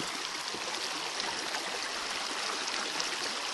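A creek flows steadily on a hike upstream, a continuous close rush of water over stones with no talk and little change in level throughout.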